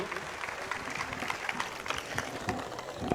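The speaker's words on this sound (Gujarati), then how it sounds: "જોરદાર તાળીઓથી આપણે એમને વધાવીશું." An audience claps in welcome for a chief guest, Union minister C. R. Patil, at a water conservation awareness program; a dense, steady spatter of applause with faint voices mixed in, fairly distant and even throughout.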